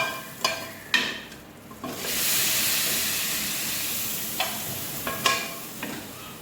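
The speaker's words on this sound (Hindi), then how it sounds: "तो मसाले को जो है तड़का डालेंगे।" Hot tadka of spices hits a pot of mixed dal with a sudden loud hissing sizzle that lingers steadily, preceded and followed by sharp clinks of a spoon against the pot.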